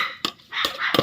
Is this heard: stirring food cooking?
no